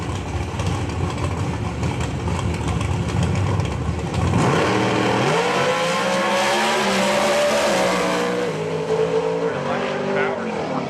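Pro Stock drag race cars at Maryland International Raceway during PDRA testing roar loudly off the line, engines climbing through rapid gear changes as they pull away down the strip, with a commentator talking over the noise.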